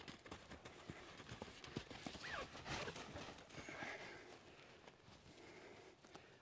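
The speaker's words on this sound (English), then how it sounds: "Ask her for a canter, get away from the fence there" Horse hooves clip-clop in a steady canter rhythm, close and fairly loud, with a brief whinny partway through, while a rider pushes a bolting mare into a canter away from a fence.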